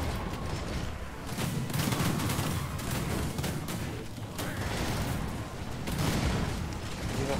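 Ranged units firing volleys in a Total War: Warhammer II battle, a dense, continuous crackle of gunfire and distant booms rolling on without pause, steady and loud throughout.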